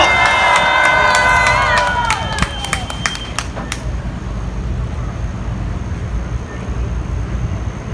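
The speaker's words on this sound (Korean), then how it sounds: "박수 주십시오" An outdoor political rally crowd in front of a Seoul court cheers and shouts with sharp claps mixed in, loud at first, then settling into a lower murmur of crowd noise and voices.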